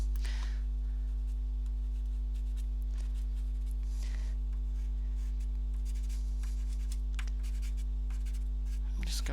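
A hard, scratchy Terry Ludwig soft pastel scrapes across paper in a series of short strokes. A steady low electrical hum sits underneath.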